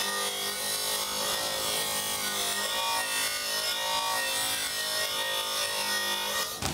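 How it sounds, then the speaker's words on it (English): Coarse abrasive pads scrub a rusty, nickel-plated two-stroke exhaust pipe in a continuous, close, harsh rasping rub without pauses, no voices present. "see how well these rough coarse pads get through the plating"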